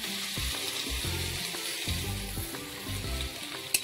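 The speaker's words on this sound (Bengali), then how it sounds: "কষানো হয়ে গেছে, এবার দিয়ে জল।" Water is poured into a sizzling pan of cauliflower, potato and fish curry, the frying hiss broken by rhythmic stirring scrapes and a sharp clink near the end.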